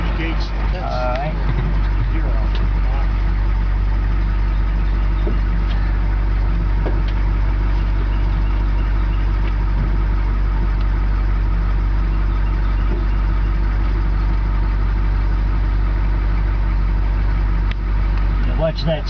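A tall truck's engine idles in a steady low drone that holds unchanged for the whole stretch, with a brief voice near the start.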